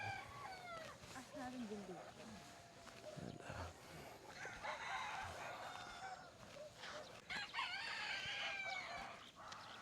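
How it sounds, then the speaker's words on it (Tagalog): Roosters and chickens crowing and clucking around a hillside farm campsite, several calls overlapping at mid distance while people talk nearby and a dog is faintly heard. "Dinig mo yung mga tilawak ng manok."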